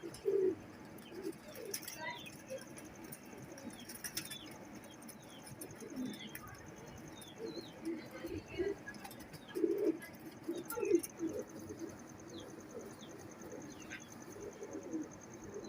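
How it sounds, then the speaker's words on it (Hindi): Pigeon cooing from breeder birds, red-eyed type, a soft low repeated coo recurring every few seconds amid faint background chirps and ambient noise, fairly quiet and steady. "ब्रीडर कबूतर है ये, बच्चे उड़ाने वाला"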